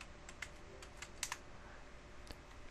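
Light, quick keystrokes on a computer keyboard, a short irregular burst of a few clicks that is faint and close, with no talking.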